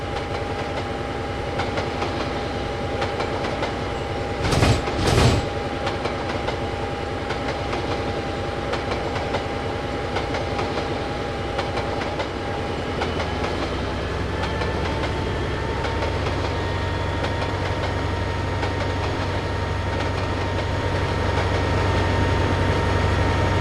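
Cargo train in Train Simulator rolling into a station on track 1, a steady rumbling run with tonal engine hum and a rail-click pattern, two sharp bursts near the start, the low drone swelling as it speeds up.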